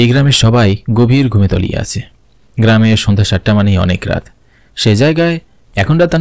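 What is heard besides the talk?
No everyday noises stand out.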